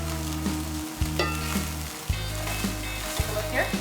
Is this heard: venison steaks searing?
yes